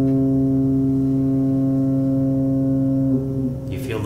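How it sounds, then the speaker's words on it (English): A ship's horn sounds as one long, loud, low-pitched blast that holds steady for several seconds before tailing off, with a faint rumble underneath. "It's a ship horn, right?"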